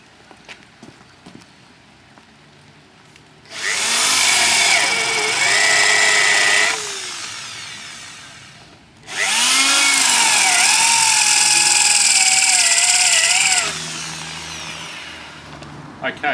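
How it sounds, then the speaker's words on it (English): A power drill fitted with a 32 mm spade bit bores countersink holes into a cypress sleeper, two long loud whining bursts of several seconds each separated by a short pause, close up and alone. "this is a 32 millimeter spade bit, and that'll dig the countersink holes"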